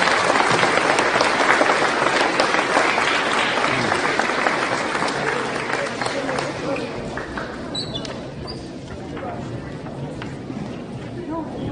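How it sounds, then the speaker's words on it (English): An audience at a school and community ceremony with the American Legion and Chamber of Commerce gives a final round of applause, loud and full at first, then gradually thinning and fading, with some voices underneath. "let's give one final round of applause"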